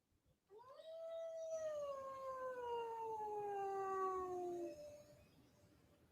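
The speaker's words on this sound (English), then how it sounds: "that was a wolf howl" A wolf howl sound effect, one long clear howl rising then slowly falling and fading over about four seconds, close and alone.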